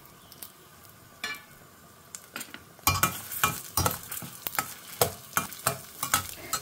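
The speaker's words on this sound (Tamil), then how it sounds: "மிளகாய் நல்லா கரக்கரான்னு வறுத்தால் தான் அரைக்கிறச்ச நல்லா மைய அரையப்படும்." Red chillies roast in a pan, with a spoon stirring and scraping in a rhythmic series of sharp scrapes over a faint sizzle, growing busier and louder halfway through.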